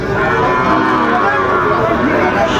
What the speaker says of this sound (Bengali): আচ্ছা দেখান তো গরুগুলো